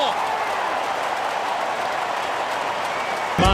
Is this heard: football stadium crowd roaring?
yes